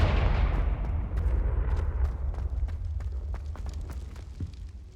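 Confringo fire blast spell in the Hogwarts Legacy video game, a heavy rumbling explosion that bursts loudly and decays into crackling debris and scattered snaps.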